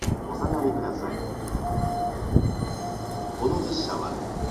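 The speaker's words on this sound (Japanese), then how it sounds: "まもなく2番線に高崎線直通、普通高崎行きが参ります。" Takasaki Line local train pulling into Akabane station platform 2, a rolling rumble with rail clatter and squealing wheels close by, under a platform announcement.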